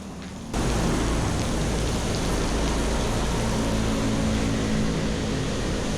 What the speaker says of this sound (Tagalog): So yun, medyo huminto na yung ulan. Hindi naman huminto pero humina.